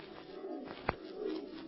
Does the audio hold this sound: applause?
no